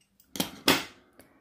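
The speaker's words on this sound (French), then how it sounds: "Donc je prends ma paire de ciseaux, je coupe sur le pli." Scissors snip through a folded paper label for a junk journal in two quick, close, crisp cuts, each with a short sliding tail, followed by a faint click.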